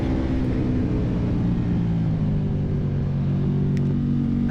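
KTM Super Duke 1290R motorcycle engine pulling hard under throttle on a racetrack during a trackday, a loud, continuous, close-up rumbling roar with steady wind noise and no break across the stretch.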